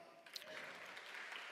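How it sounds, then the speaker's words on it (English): Audience applause at the opening night keynote of a pop culture conference, a brief, fairly quiet wash of clapping that swells after a moment and holds steady. "let's give him applause, yes."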